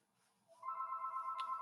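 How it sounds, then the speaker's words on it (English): A telephone rings in a steady electronic warble, moderately loud and alone, starting partway through after a quiet lead-in, with a brief brighter chirp near the end. "Oh, ring, ring on the phone."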